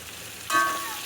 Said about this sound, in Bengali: সামান্য হলুদের গুঁড়া, সামান্য পরিমাণে মরিচের গুঁড়া, সামান্য পরিমাণে ধনে গুঁড়ো দিয়ে মশলাটা ভালো করে কষিয়ে নেব